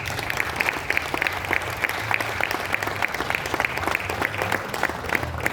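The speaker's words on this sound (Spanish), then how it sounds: "Aplauda al Señor, por favor." A church congregation in Colombia applauding during a worship training session, with sharp individual claps standing out over a continuous bed of crowd clapping and a low musical hum.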